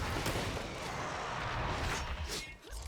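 Gunfire in Killing Floor 3 aimed at eggs: a steady, loud wash of shots and impacts blending into continuous rumbling noise, fading briefly near the end, with little talk.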